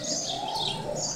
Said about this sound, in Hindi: ये तोते हैं